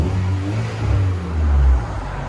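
A Chevy Malibu 1.5L turbo with straight pipes revs up twice in quick succession, a loud, close, low engine roar that rises and falls with no voices over it.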